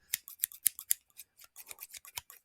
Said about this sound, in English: I don't know what these scissors sound like.